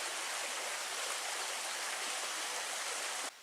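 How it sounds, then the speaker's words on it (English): A stream rushes through a rocky canyon along the Superior Hiking Trail, a steady, full wash of flowing water that holds constant and then drops away abruptly just before the end. "Stream going through this canyon."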